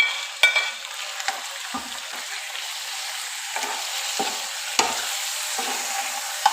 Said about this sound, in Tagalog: Halo-haloin natin hanggang sa maluto yung ating chicken.